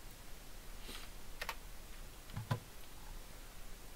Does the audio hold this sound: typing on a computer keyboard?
yes